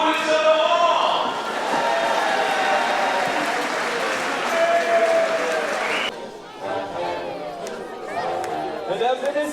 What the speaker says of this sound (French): Vous pouvez vous applaudir tous les Saint-Laurent